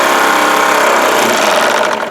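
A Wilesco D22 model steam engine revs hard with its drain taps open, giving a loud, continuous hissing chuff that stays steady and near before easing off slightly at the end.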